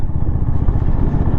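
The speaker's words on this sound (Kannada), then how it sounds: "ಪಿಕಪ್ಪ ಕೊಡಾತಿಲ್ಲ ನನ್ನ ಬೈಕ್." A Honda H'ness CB350 motorcycle engine labouring on a climb along a Ladakh mountain road from Leh to Nubra Valley, a loud, close, steady low throb with rough clattering pulses throughout.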